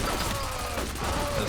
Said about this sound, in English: Freaking computer controlled turret.